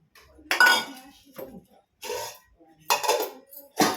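Chicken biryani is spooned onto a plate with a metal ladle, several distinct clinks and scrapes of metal on dishware coming in short bursts, close and fairly loud.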